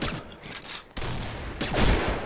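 Gunfire in the online shooter Combat Arms, a loud burst of rapid shots that cuts in abruptly, pauses, then returns even heavier toward the end.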